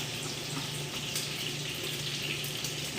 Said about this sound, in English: we're going to put these onions in so they can start caramelizing up